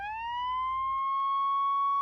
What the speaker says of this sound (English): I have to put that siren at the end of every offensive joke I make now